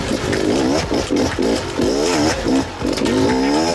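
An enduro motorcycle speed run up a steep hill in second gear, its engine revving and climbing in pitch in repeated surges with brief dips between, loud and close.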